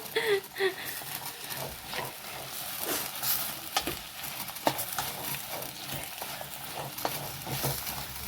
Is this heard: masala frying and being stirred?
yes